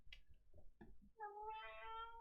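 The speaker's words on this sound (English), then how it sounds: "My cat's going insane." A house cat meows once in a drawn-out, rising and falling call, close and clear, preceded by a few soft indistinct sounds and small movements.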